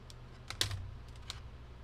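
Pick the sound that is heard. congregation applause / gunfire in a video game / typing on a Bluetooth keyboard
typing on a Bluetooth keyboard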